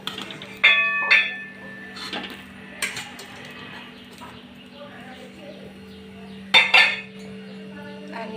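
Fried sweet jaggery puris lifted from a frying pan of oil, with a few sharp metallic clinks and scrapes of a utensil against the pan over a steady low hum, spaced irregularly.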